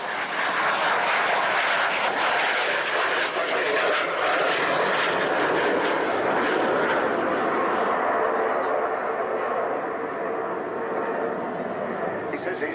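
A vintage propeller aeroplane, the same age as an Avro Vulcan, drones steadily overhead with a loud, continuous engine roar that holds throughout, while a voice speaks underneath and a dog barks briefly.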